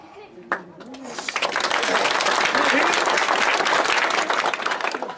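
An audience at a political rally in Tharad bursts into loud, sustained applause that swells after a brief shout and holds steady to the end, with crowd voices mixed in.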